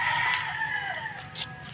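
Backyard chickens around a house garden, a rooster crowing in a drawn-out call with clucking mixed in, close and clear, with no talk.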